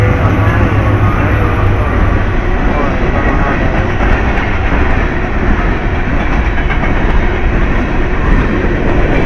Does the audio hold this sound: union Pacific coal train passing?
yes